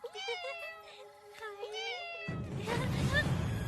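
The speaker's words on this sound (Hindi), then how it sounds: "दूसरी बिल्ली" A cat in a village home meows repeatedly, close and clear, for the first couple of seconds before a broad noisy rush takes over; no talk is heard.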